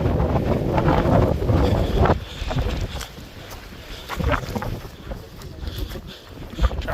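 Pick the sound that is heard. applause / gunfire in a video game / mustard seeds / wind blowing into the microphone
wind blowing into the microphone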